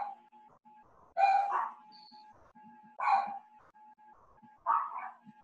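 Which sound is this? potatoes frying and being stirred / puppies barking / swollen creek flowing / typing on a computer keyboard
puppies barking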